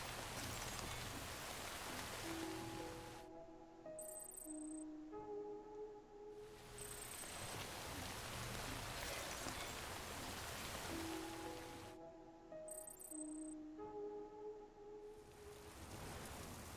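Rain pours down in the Death Stranding video game, a broad hiss of falling drops that swells and eases in waves, with soft tonal game music sounding in the lulls.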